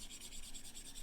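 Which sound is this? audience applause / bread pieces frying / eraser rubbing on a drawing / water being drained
eraser rubbing on a drawing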